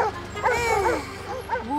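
A pack of cartoon dogs in an animated pound bark, yip and whimper together in a lively, overlapping chorus that sounds close and fairly loud, with no speech over it.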